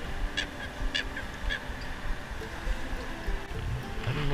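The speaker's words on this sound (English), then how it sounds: "Wow, look at the big Canadian geese." Several short Canada goose honks ring out in a quick series, moderately distant, over a steady outdoor background murmur at Echo Park Lake.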